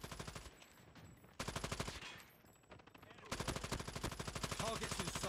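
Rapid automatic gunfire from a Call of Duty Mobile match, loud and sustained in repeated bursts with short lulls between them, mixed with game effects and faint voice callouts.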